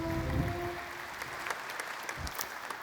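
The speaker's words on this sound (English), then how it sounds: "join me in a round of applause?" Audience applause at the opening ceremony of the IAC 2023 space conference, a steady mid-level wash of clapping across a large hall with a low tonal hum beneath, lasting the full few seconds.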